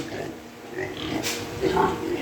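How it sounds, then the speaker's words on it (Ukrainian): Piglets grunting in a pen at a small farm that also keeps broilers, with short soft grunts and snorts close by, mixed with a person talking. "Це поросятка, які залишилися у нас."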